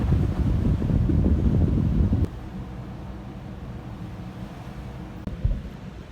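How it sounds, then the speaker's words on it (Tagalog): Wind gusting at a seaside spot, loud rumbling buffeting on the microphone for about two seconds, then easing into a steadier, quieter blow with a brief gust near the end. "Saka ang hangin pa dito."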